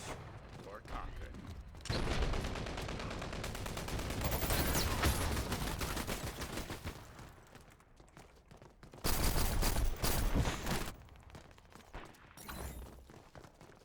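Bursts of automatic gunfire in the video game Dirty Bomb, sustained rattling volleys with brief gaps between them, loud and close, mixed with scattered impacts and a faint voice in the background.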